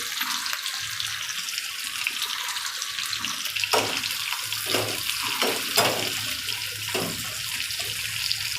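Paneer and vegetables frying in oil for restaurant-style chilli paneer, a steady bright hiss of sizzling with a few soft pops and spatters, close and continuous, no talking.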